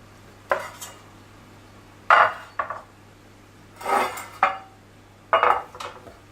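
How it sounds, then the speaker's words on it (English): Metal baking pans for savory roasted red pepper and feta muffins clatter and scrape in a kitchen, five distinct bursts of clanking handling at close range with quiet pauses between, no talking. "So I'll grab our pans."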